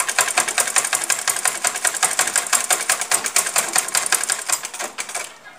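A sewing machine stitching a kameez up to a marked hip line runs in a fast, even clatter of needle strokes, close and loud, then slows and stops near the end.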